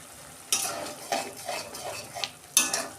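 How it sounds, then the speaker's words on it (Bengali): Spice masala for a vegetarian soybean curry is stirred and fried in a pan, with a soft steady sizzle and a few sharp scraping strokes of a spoon against the pan, close and alone. "মশলাটাকে একটু ভালো করে কষে নিতে হবে, নাহলে কাঁচা গন্ধ দেবে।"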